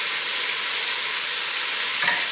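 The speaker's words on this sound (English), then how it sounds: "We give that a stir." Seared beef with onions, garlic powder, onion powder, oregano and cumin sizzles steadily in an Instant Pot, a close hiss broken by one brief scrape of a stir near the end.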